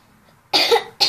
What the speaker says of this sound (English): We'll have a bad cough today